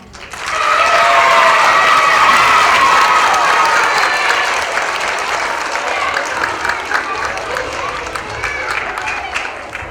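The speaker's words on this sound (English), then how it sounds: "let's give our 3rd graders a big round of applause" An elementary school character education assembly cheers its third graders, a loud crowd of clapping with some cheering swelling in quickly, staying intense for several seconds, then easing to a steady, slightly softer patter.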